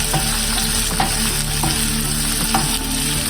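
Chopped onion stirred and frying in a hot pan, a steady sizzle with scraping utensil clicks throughout, close and moderately loud, no voices.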